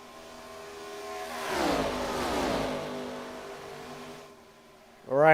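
ARCA race cars at Michigan speeding past, engines rising to a loud drone that sweeps by and fades, then another car roars in sharply at the end.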